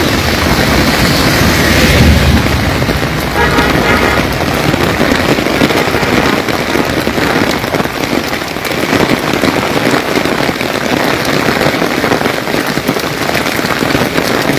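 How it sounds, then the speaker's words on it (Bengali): Heavy rain pours down in Comilla, a dense, unbroken roar of drops hitting surfaces close by for the whole stretch, with no talking. "দেখতে পাচ্ছ বৃষ্টির আওয়াজ, প্রচুর বৃষ্টি পড়ছে।"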